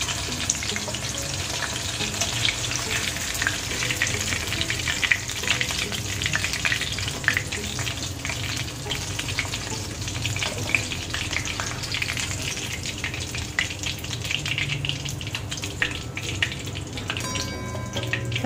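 Chicken pieces deep-frying in a pan of hot oil, a dense continuous bubbling sizzle held close and steady throughout, with occasional scraping stirs and no talk.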